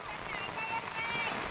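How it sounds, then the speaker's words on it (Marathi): Steady monsoon rain pouring onto a flooded rice planting field in Khed, Konkan, a dense, continuous hiss of drops with no distinct pauses, alone and fairly close. "आज पाऊस सुरुवात झाला आहे"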